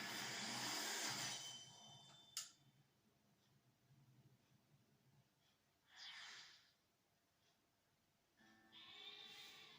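A sheep bleating in the Pokémon Sword video game, short soft synthesized calls over quiet background game sounds, with a brief sharp click early on.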